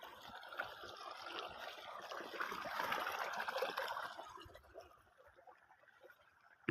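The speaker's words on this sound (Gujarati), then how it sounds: "આયા પાણી આવે છે. આપણું આવી ગયું પાણી." Irrigation water runs into a field channel on a farm with fodder crops, a faint, steady trickling and gurgling flow that swells slightly midway and then eases off.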